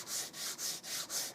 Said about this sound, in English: I'm sanding all of the stock